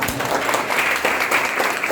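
A lecture audience claps steadily for a couple of seconds, dense applause from many hands at an even, sustained level.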